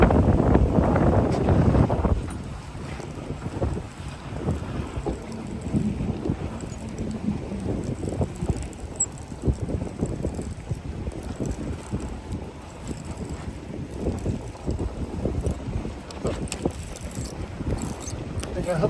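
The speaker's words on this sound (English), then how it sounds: "Oh, the wind's starting to pick up." Wind picks up outdoors at a fishing park in Fort Lauderdale, Florida, with strong gusty rumble battering the microphone, loudest at the start, then a steady blustery roar with scattered knocks and handling bumps.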